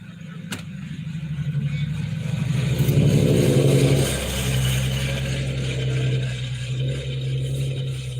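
A worn, run-down car engine revs up and settles, a rough mid-pitched drone with a rattling edge, swelling for a few seconds then idling unevenly, fairly close with no talk.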